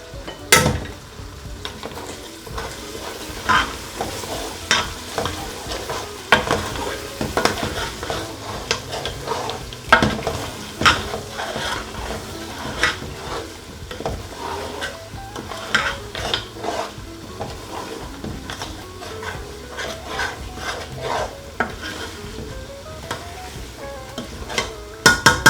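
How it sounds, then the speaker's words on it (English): Lamb curry with spices frying in a pot, stirred steadily with a utensil: continuous sizzling under repeated scraping and knocking strokes against the pot, close and fairly loud with no talking. "Give that a real mix for about 2-3 minutes before we add the water"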